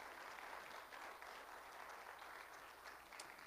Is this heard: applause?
yes